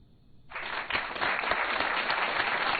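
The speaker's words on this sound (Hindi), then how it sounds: "तालियों को जरा रोक के रखिए" A studio audience on a Hindi-dubbed game-style show bursts into applause after a tied round, rising quickly from quiet into a thick, sustained wash of clapping.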